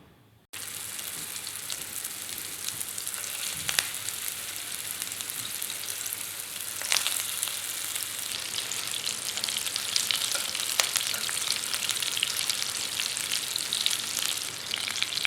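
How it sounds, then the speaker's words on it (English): Meatballs shallow fry in a pan of oil, a constant close crackling sizzle that starts abruptly and holds steady, with a few spatter pops and faint utensil knocks, no talking. "what we're going to do is we're going to shallow fry these"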